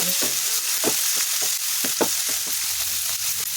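Corn upma ingredients frying in a pan, a steady close sizzle with intermittent scraping stir strokes, no voices.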